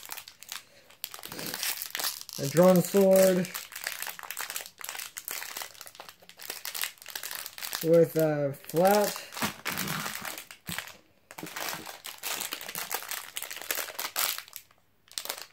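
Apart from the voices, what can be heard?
paper crinkling while unboxing a Beyblade toy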